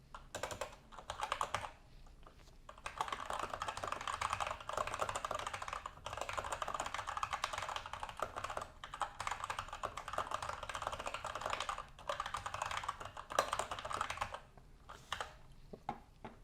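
Fingers type on a computer keyboard in a steady stream of quiet, close key clicks with brief pauses, entering a sentence of text without any speech.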